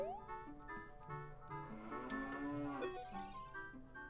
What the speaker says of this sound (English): Excuse me, cow.